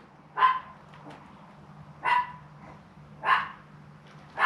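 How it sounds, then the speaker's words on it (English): A dog barks three times at spaced intervals, single sharp barks that sound a little distant, with quiet pauses between them. "having another barking fit."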